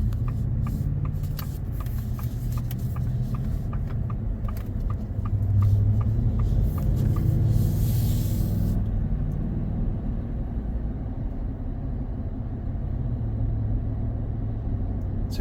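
A 2024 Ford Super Duty with the 7.3 gas V8 accelerates and shifts up through its gears, heard from inside the cab as a steady, loud low engine and road rumble with no talking.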